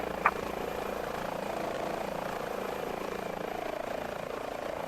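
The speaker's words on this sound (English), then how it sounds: "let us get back in the chopper" An Airbus H145 helicopter in a flight simulator game gives a steady, muffled rotor and turbine drone with one brief click near the start.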